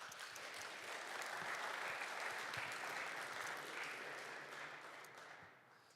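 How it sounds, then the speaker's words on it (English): Conference audience applauding partners at a historical commemoration event, a broad, even wash of clapping that swells, holds for several seconds and fades toward the end, heard at moderate distance in a large hall. "Please give a round of applause for our partners."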